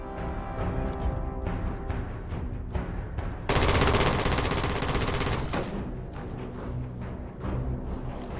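Heavy weapon fire from a big gun in a space game trailer: a dense, loud burst of rapid shots, preceded and followed by rumbling, impact-laden action sounds.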